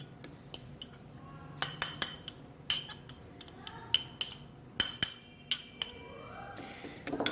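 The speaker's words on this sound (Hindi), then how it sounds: "ये 1 एग जो मैंने लिया था उसको हमने फेंटना है" A utensil clinks irregularly against a bowl while one egg is beaten with a tablespoon of cornflour for potato cheese balls, giving sharp, close, scattered taps over a quiet background, with no talk.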